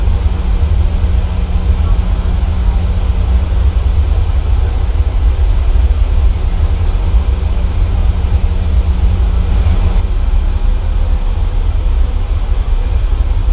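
A Boeing 737-800 in EgyptAir livery roars down the runway at takeoff in Microsoft Flight Simulator 2020, its jet engines giving a loud, steady, unbroken rumble from start to finish.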